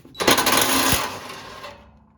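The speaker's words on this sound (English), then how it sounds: "Remove this 12mm head bolt here on the bottom attached to the hitch" A ratchet backs out a 12 mm bolt at the hitch on the underside of a 2007-2013 Toyota Tundra steel rear bumper: a close, rapid burst of clicking that fades out after about two seconds.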